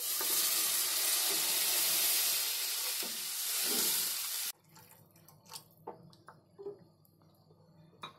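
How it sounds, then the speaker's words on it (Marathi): Water pours into hot masala in a pan for paneer kofta curry, a loud, steady rushing hiss and sizzle that cuts off abruptly, followed by quieter bubbling, clinks and soft stirring sounds. "आता याच्यामध्ये पाणी ओतते"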